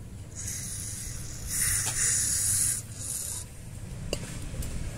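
Cleaner sprayed onto the throttle body of a Suzuki Swift, heard as a close, steady hiss in a few bursts, swelling louder in the middle, over a low engine rumble.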